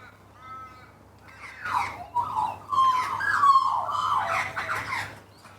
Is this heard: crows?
yes